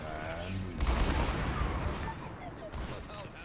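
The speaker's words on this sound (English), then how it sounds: "So we just had an ult explosion right there." An ultimate ability goes off in Overwatch, loud rumbling blasts and rapid gunfire swelling into a dense burst of explosion noise, with a voice talking over it.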